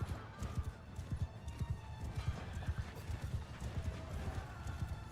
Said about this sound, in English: that roar of hooves